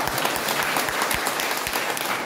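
A church congregation at a Christmas service bursts into steady, dense applause that fills the room, many hands clapping together at close range with no talk over it.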